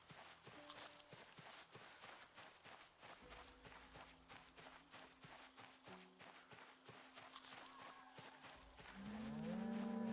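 Cattle moo several times at a moderate distance in the video game Project Zomboid, over footsteps and a low musical drone, with a louder tonal swell rising at the end.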